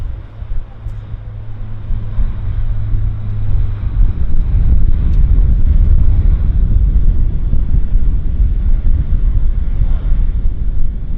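A Q400 turboprop airliner on its takeoff roll at Vancouver Airport makes a broad, distant rumble that swells and holds, heard through wind buffeting on the microphone.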